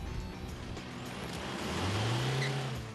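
An Isuzu MU-X 4x4 engine revs in a steady, loud drone that swells toward the end, with traction control switched off during a solo recovery attempt.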